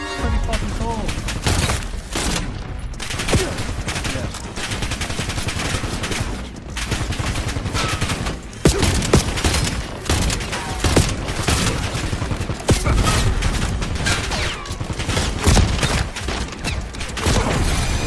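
Rapid multi-round weapon fire in the video game Call of Duty Black Ops 7, dense continuous shots and impacts filling the whole stretch, loud and close, with a player talking over it.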